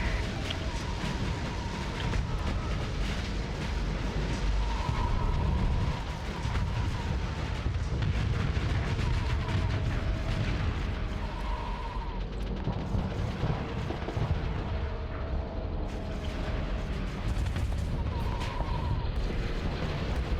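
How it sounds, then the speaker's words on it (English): Space combat in Starsector, with ships trading fire in a steady barrage of booming, artillery-like blasts and crashes that roll on continuously at high volume. "They're shooting me."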